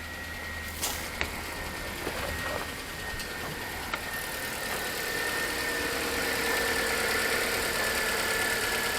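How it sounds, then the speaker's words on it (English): Mazda 5 engine idling with a faint repetitive tick, a steady low hum with light clicks early on, close and moderately quiet, no talk. "I hear a little tick to that motor. I can't believe it's running though."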